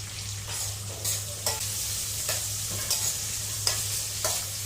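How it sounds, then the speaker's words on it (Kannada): Curry leaves and cashews fry in a pan for curd rice, giving a steady close sizzle broken by repeated scraping stirs and soft crackles, with no talking. "ಕರಿಬೇವನ್ನ ಅದನ್ನು ಹುರ್ಕೊತಾ ಇದ್ದೀನಿ ಇವಾಗ"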